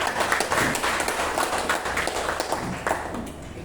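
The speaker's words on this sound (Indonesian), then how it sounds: "Kita kasih aplaus buat Kakak Mukhlis Katri." An audience applauds a speaker at a business forum in Morowali, with dense continuous clapping from many hands that fades a little near the end and has no voices over it.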